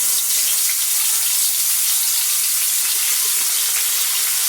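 Steady crackling sizzle of fish frying in hot oil, a dense hiss that stays even and close throughout with no talking.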